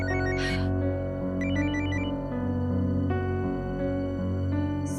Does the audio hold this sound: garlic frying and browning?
no